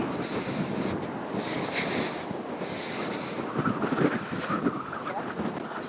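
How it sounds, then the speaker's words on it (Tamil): Strong wind buffets the microphone at a hilltop viewpoint in the Kolli Hills, a steady roar with gusting surges, loud and close, with no clear speech. "என்னடா காத்து இப்படி அடிக்குது"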